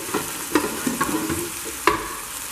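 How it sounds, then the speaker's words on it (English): Beef and charred onions hitting a large hot tamale-steamer pot for birria, bursts of sizzle with scattered clinks and scrapes of stirring, close and fairly loud. "go ahead and add the meat"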